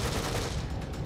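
Sustained gunfire in The Evil Within survival-horror game, a dense, continuous rattle of shots filling the whole moment at steady loudness with no voices.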